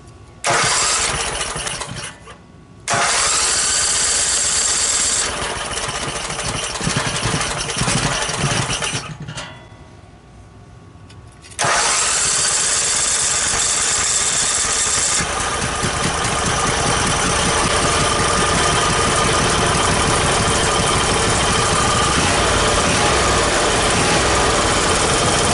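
A Briggs and Stratton Vanguard V-twin 16HP go-kart engine, fed from a temporary gas bottle, is pull-started, cranks and catches in bursts, then settles into a loud, steady, close idle with no talking.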